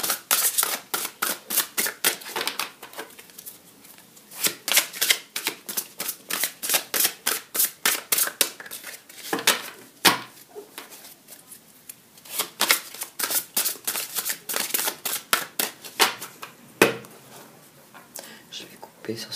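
A deck of oracle cards being shuffled and cut by hand, quick riffling and snapping bursts in uneven runs, close up, with soft talking in between.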